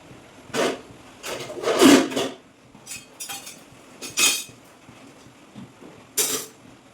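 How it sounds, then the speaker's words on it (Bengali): Small momo dough balls rolled into rounds with a rolling pin, giving soft intermittent knocks and scraping clicks separated by short quiet gaps. "এগুলো এখন আমি গোল গোল করে বেলে নেব।"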